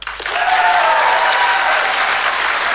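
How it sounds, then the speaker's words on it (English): A live stage-show audience bursts into applause, a loud, dense and continuous wash of clapping that swells in quickly and holds steady for a few seconds, with faint crowd voices underneath. "You're going to vote as an audience with your applause."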